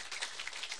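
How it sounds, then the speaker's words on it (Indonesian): Audience applause at a seminar forms a dense, steady patter of many hands clapping, moderately loud and continuous through a brief moment, with no voices. "tepuk tangan sekali lagi dong"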